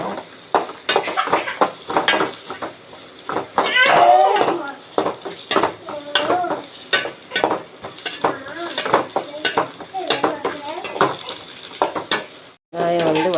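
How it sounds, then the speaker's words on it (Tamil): Onions sautéing and being stirred in a pan for a ponnanganni greens stir-fry, with repeated clinks of a utensil against the pan over a soft sizzle and bursts of speech throughout. "வதங்க விடணும்."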